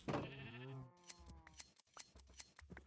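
Sheep in a farming video game give a harmonic bleat in the first second, followed by a series of short clicky, snipping sounds like shearing or game effects.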